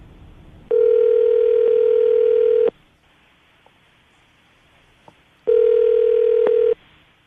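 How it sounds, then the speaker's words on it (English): Two long, steady telephone dial tones sound while someone is calling a phone number, each lasting about two seconds with a quiet gap between them and a few faint clicks in the pause. "I'm going to dial the phone number right now"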